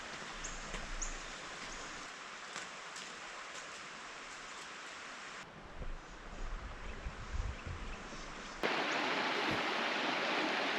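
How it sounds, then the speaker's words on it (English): River rapids on the Patapsco River in Patapsco Valley's McKeldin area rush in a steady, close roar of churning water, with a brief shift in the middle before the flow grows louder and fuller near the end. "So these rapids are just down from the main rapids"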